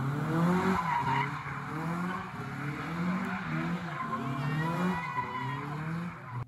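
A car's engine revs hard as its tires skid and squeal, a loud continuous racing-style burst with rising and falling throttle, heard as playback without talk over it.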